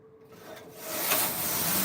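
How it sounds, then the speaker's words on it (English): Silver Reed knitting machine carriage running a punch lace pattern, a continuous mechanical rubbing rasp that starts softer and swells louder partway through, close and alone. "today we use this special machine head to operate this special pattern punch lace for you"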